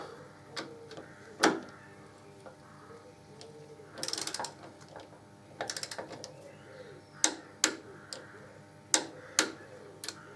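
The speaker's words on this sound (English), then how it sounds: "So I've got my Lal torque wrench set up." Torque wrench clicking while tightening bolts on a 2014 motorcycle during a primary chain adjuster swap: about a dozen sharp, scattered clicks and ratchety bursts, faint and close, over a quiet background.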